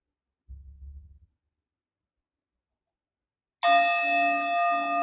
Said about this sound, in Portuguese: Deixe que o som do sino seja um sinal para você relaxar.